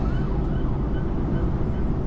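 A police car siren wailing faintly in the distance while heard from inside a moving car, mostly masked by loud, steady low road and engine rumble.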